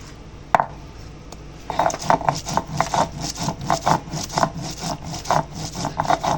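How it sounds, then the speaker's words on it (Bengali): Ginger and cumin are ground into a fine paste on a grinding stone, heard as rhythmic back-and-forth rubbing strokes at a steady pace, close and fairly loud, after a single sharp knock at the start. "তো আদা জিরাটা এখন বাটছি মিহি করে বাটবো"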